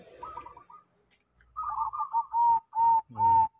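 Zebra dove (perkutut) of the black cemani type calling in a bird-keeping setting: soft rolling coos at first, then three loud, evenly spaced drawn-out coo notes close by, with no talk.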